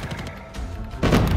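Gunfire in the mobile shooter game Call of Duty Mobile, a steady run of rapid shots that swells into a louder, denser burst near the end.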